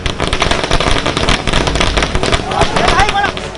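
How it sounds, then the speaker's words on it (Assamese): Firecrackers set off by BJP workers celebrating outside Droupadi Murmu's residence in Odisha, a loud, dense stream of rapid crackling pops amid crowd noise. "উৰিষ্যাত কিদৰে দ্ৰৌপদী মুৰ্মুৰ বাসগৃহৰ সন্মুখত বিজেপি কৰ্মীসকলে ফটকা ফুটাইছে মন কৰক।"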